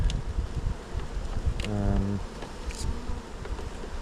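Honeybees buzz steadily around an open beehive in September, a dense, close hum with a few individual bees droning louder as they pass near. No one speaks.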